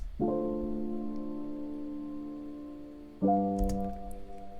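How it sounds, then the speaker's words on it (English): Two sustained piano chords in a simple progression, the first ringing for about three seconds and the second struck firmly after it, each with a rich stack of harmonics decaying slowly, played alone and fairly quietly. "it's a piano sound this time"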